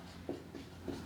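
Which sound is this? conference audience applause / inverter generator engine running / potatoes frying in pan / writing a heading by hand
writing a heading by hand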